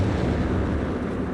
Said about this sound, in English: the entire just goes up in a massive series of explosions here.